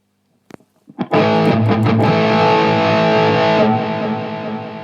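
An electric guitar, a Schecter Banshee 6 FR, through a BOSS GX700 preamp's turbo overdrive model into a Bugera G5: a few muted picks, then a loud, thick, sustained overdriven chord ringing for several seconds.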